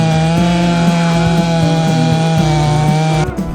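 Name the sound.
chainsaw cutting conifer tree stumps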